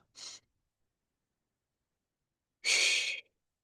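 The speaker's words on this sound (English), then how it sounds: "So we'll take a deep breath." A person doing a deep breathing exercise: a brief soft breath, a long silence, then a long, loud, close exhalation like a sigh lasting about half a second.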